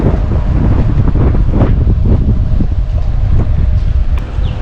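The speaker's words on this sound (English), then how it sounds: "It's windy out here." Strong wind roars across the microphone at the shore in St. Augustine, a loud continuous buffeting rush with surf beneath it and no voices.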